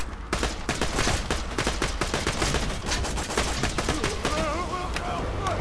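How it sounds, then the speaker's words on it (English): A pistol in the Borderlands 2 video game fires in rapid, steady succession like a submachine gun. The shots form a dense, loud, continuous string of cracks that runs through the whole stretch. "Dude, I like this pistol. It's almost like a submachine gun."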